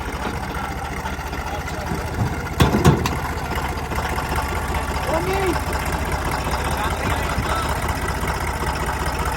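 A tractor engine idles steadily throughout, low and rumbling, with a brief clunk partway through and faint voices in the background.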